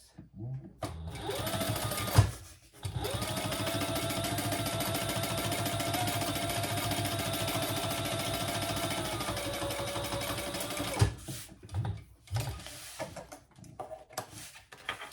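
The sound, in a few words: sewing machine top stitching a wristlet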